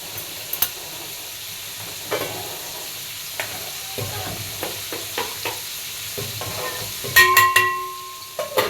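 Rice stuffing for fish being stirred in a pan, with scattered spatula scrapes and taps over a low sizzle that swells into a louder hissing burst near the end.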